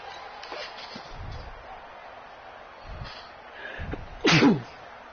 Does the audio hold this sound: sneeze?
yes